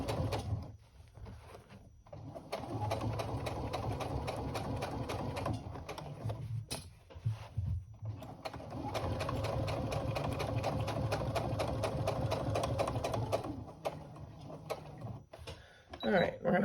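A sewing machine basting down the side seam of a tote bag runs in long sustained bursts with brief pauses, its steady stitching drone close and loud, while a person talks over it.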